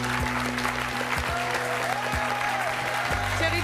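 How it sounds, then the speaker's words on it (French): Studio audience on a French TV show applauds warmly as a guest arrives, continuous dense clapping with a low hum and occasional thumps beneath it. "Je vous demande d'applaudir et d'accueillir chaleureusement Thierry."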